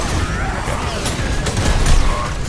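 Rapid video game gunfire in a PC shooter, dense continuous bursts of shots and booms, loud and unbroken for the whole stretch.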